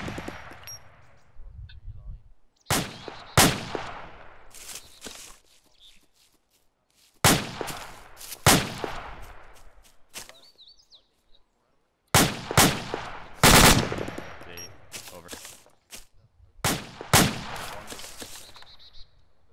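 Short, sharp machine gun bursts in Arma 2 ring out in separate clusters with silent gaps between them, each volley loud and echoing away, some shots sounding closer than others.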